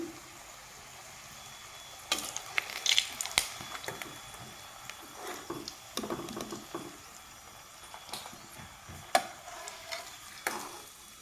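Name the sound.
papad rolls frying in oil in a pan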